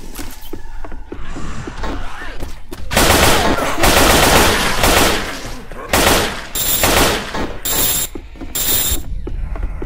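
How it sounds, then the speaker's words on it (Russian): Weapon reloading in the game Left 4 Dead 2: loud, close mechanical clacks and ratcheting of magazines and bolts, mixed with bursts of rapid gunfire that come and go over about ten seconds. "Перезаряжаю. Перезаряжаю. Перезаряжаю."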